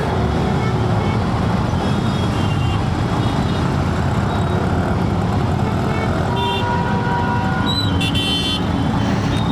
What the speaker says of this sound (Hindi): लेकिन ट्रैफिक ज़्यादा है